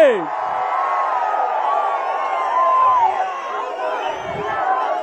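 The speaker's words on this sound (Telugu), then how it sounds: "స్వాగతం చెప్పండి గట్టిగా చప్పట్లు కొట్టి" At an outdoor TDP political rally in Gurajala led by Chandrababu Naidu, a large crowd roars and cheers continuously with whoops and shouts, loud and sustained, and no distinct clapping stands out.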